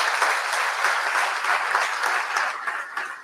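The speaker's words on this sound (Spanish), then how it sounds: "un fuerte aplauso a todo el equipo de consumos problemáticos." An audience at a conference gives a team a sustained round of applause, loud and dense clapping that holds steady throughout before tapering slightly at the end.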